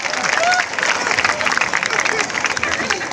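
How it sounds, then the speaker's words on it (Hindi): Audience at a Hindi comedy poetry show in Raipur, Chhattisgarh breaks into sustained clapping and applause, a dense, steady wash of hands filling the hall with crowd murmur mixed underneath. "तालियां आप कम बजा रहे हैं।"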